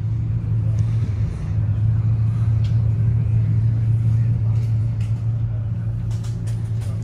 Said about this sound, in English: Now we have a Ford Console.